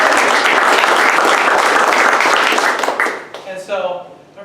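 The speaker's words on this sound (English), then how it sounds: "So, let's give them a round of applause." Applause from an audience at a startup weekend program thanking mentors and sponsors, dense steady clapping for about three seconds, then thinning into a few scattered claps and fading.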